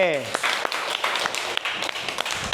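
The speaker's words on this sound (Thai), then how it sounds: "ปรบมือให้กับเพื่อนด้วยครับ" Students in a classroom clap for a classmate after a prayer demonstration in a lesson, a short burst of close, scattered hand claps with a voice speaking briefly at the start.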